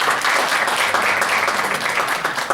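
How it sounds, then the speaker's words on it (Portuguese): Steady, dense applause fills the room as a lecture audience claps for a speaker, a continuous close wash of hands without pauses for the whole stretch. "Uma salva de palmas, por favor."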